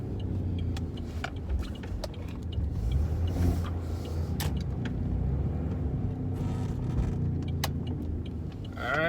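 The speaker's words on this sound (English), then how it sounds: "that's how my car sounds." A Saturn Ion car engine runs steadily with a low rumble and occasional clicks and rattles from inside the vehicle, no speech.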